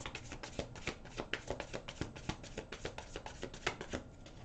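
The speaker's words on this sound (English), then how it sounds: "One more shuffle here for Pisces, please, for March." Tarot cards are shuffled close up in quick riffling bursts, a soft rapid patter of snaps and slides with no talking.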